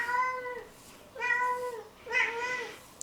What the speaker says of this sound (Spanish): Es de tejedoras que tu gata te maulle